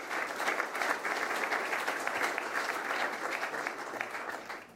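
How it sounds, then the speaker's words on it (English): A hall audience at a horseracing conference claps steadily and densely, a sustained wash of applause that holds at even loudness before tapering slightly at the end. "give them a big round of applause and to thank them for their marvelous work"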